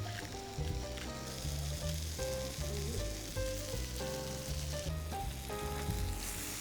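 Cabbage hitting a pan of frying bacon sets off a steady sizzle that runs beneath prominent background music with a melodic tune and bass line; no one speaks.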